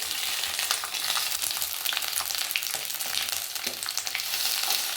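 Turkey berries sauté in sesame oil in a pan, giving a continuous bright, crackling sizzle with small stirring scrapes, close and steady throughout with no talking.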